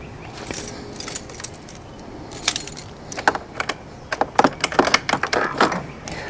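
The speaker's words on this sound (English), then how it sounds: "I'm going to turn on the ignition just to verify that my bulbs are working" Keys jangle and clink close by as a motorcycle ignition is switched on, a run of bright metallic rattles and small clicks in short bursts, with no voices.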